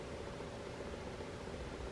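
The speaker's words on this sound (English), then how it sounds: "if you hear a little humming, my fan is going over there" An electric fan runs in a room, giving a steady, even hum and airy whoosh that stays constant throughout with no voices.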